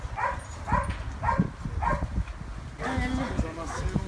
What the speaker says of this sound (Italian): Qui forse c'è chiuso un altro cane.